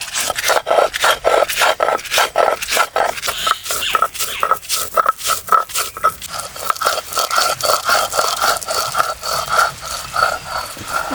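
Spices ground into a fine paste with a little water for a spicy chicken stomach curry make a loud, rhythmic series of rubbing and scraping strokes, repeating evenly and close up.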